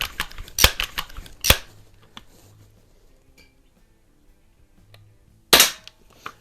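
A 1322 carbine build fitted with a Gravmag 5p magazine fires sharp, close cracks, three strong shots spread unevenly over several seconds, with smaller clicks and handling noises between them.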